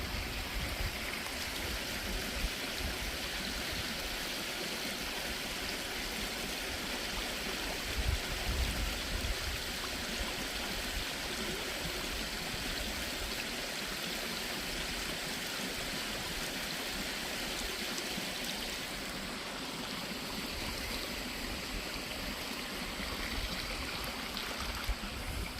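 Creek water pouring steadily over a dam at Canoe Creek State Park in Frankstown Township, Pennsylvania, a constant near rushing wash with no pauses.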